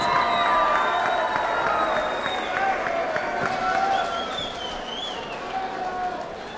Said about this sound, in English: give these two warriors a big round of applause